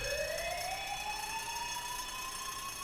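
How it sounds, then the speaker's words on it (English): In an anime episode, an alarm siren wails steadily and loud, its tone sweeping slowly upward, alone with no talking. "The alarm."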